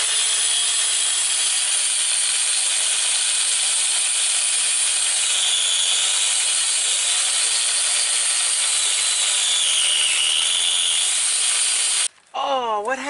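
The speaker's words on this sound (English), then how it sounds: "Take two with sawing" A saw cuts steadily through wood for a long stretch, a harsh continuous rasp that stops abruptly near the end, followed by a brief sweeping sound.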